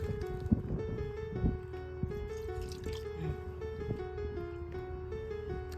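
Water poured and dribbled in a rural Bundeli home: light drips and small splashes over a steady background with a tonal hum, with a few sharper knocks between the pours.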